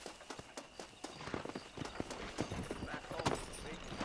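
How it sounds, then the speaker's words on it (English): Horse hooves clip-clop at a steady riding pace in Red Dead Redemption, a run of rhythmic thuds under a voice with light tack and ambient noise behind. "I know how to ride a horse."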